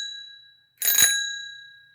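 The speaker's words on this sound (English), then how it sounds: "Here is a bell." A mechanical bell struck by a small steel hammer inside its housing gives a single bright ring that decays, with a fading earlier ring at the start, close and clear with no talking.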